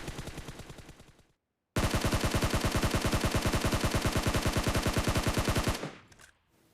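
Rapid full-auto burst from a SCAR-L rifle in PUBG Mobile, a steady rattling stream of shots emptying the magazine for about four seconds, preceded by a shorter burst that trails off and a brief gap.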